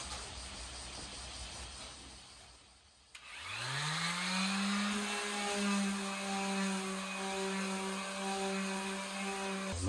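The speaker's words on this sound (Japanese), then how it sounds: "昨日塗ったパテが乾いたんで、今からサンディングやっていきます" A power sander starts up after a brief near-silence and runs with a steady, loud, close whine while sanding hard, dried wood putty on a closet being remodeled, with no talk.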